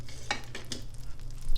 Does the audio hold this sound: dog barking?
no